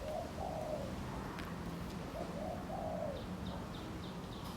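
A spotted dove gives soft, repeated coos in two short phrases, heard faintly at a distance over steady background noise, with light chirps near the end.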